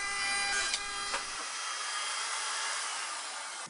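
A high, steady router whine runs close and continuous as a bearing-guided bit trims cedar, with a couple of faint knocks early on.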